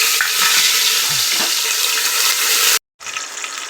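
Green chillies and curry leaves hitting hot oil already seasoned with garam masala, a loud close sizzle with a few stirring knocks that stops briefly and then resumes.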